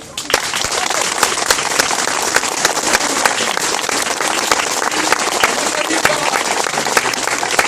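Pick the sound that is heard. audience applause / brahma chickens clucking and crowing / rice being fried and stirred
audience applause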